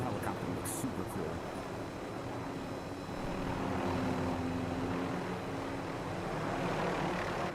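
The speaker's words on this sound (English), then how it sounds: "that helicopter looks super cool" Video game helicopter flying overhead, a steady, fairly faint engine and rotor drone that swells slightly midway, with no other sounds standing out.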